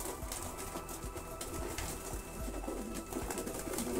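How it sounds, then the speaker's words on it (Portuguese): Pigeons feed and coo close by, soft repeated throaty coos over pecking and shuffling, with no talk. "Vai comendo, pombada, vai comendo."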